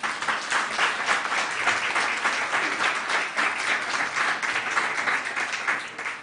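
A seated conference audience at a panel discussion on occupational safety and health policy applauds steadily for several seconds, with dense, even clapping and no talking over it.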